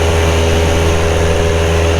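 Carbon Cub light aircraft engine at full power, steady loud droning roar with a constant low hum and propeller buzz, continuous and close, no voices.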